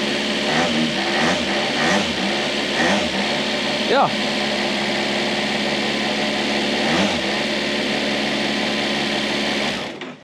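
A hydrogen-fuelled motorcycle prototype based on the Kawasaki H2 runs loudly and steadily close by, its engine note rising in a couple of revs; a voice briefly speaks over it before it cuts off near the end.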